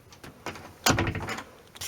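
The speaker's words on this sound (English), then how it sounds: "Close the door." An indoor door into a small windowless room is pushed shut, with a few soft bumps and shuffles before a firm thud as it closes, then some lighter handling noise afterward.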